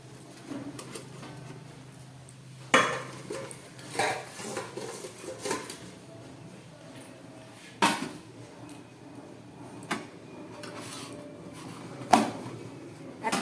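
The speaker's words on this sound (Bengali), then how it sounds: "ঢাকা দিয়ে সরিয়ে রাখি।" A bowl of marinated mushrooms is covered and set aside in a home kitchen, giving a few scattered clinks and knocks of bowl, lid and utensils, near and moderately loud, with quiet gaps between them.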